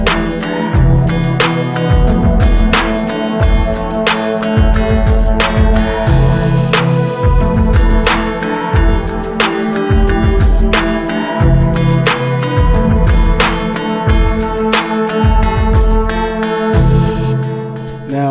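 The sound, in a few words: beat drop with a full drum loop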